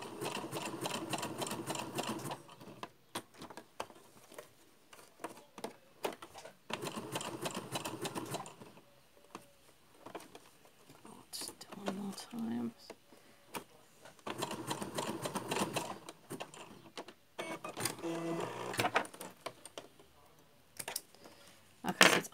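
Sewing machine stitching zigzags on felt for a mask, running in several bursts of rapid, steady stitching separated by short pauses and handling noises.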